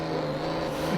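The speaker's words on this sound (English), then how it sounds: "Celebratory donuts in a racing truck on a street circuit." Racing truck doing donuts on the Salvador street circuit in the Formula Truck 2013 video game, a loud sustained engine drone that holds steady and rises slightly near the end, with no talking.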